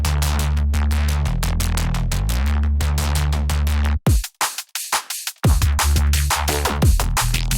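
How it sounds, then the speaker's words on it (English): A drum and bass style Reese bass played dry without effects, a loud sustained detuned low synth drone with shifting harmonics, briefly breaking into choppy stuttering bursts before resuming. "So here's this in context of maybe like a drum and bass type of Reese bass."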